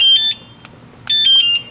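A golf cart alarm sounds in two loud bursts of high, steady electronic beeping with a short gap between them.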